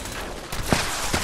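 Gunfire in a Fallout 76 PvP fight comes as a few sharp shots at moderate loudness over a steady game background.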